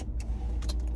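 A parked car is moved, giving a low steady engine rumble up close with a few light jingling, key-like clicks over it.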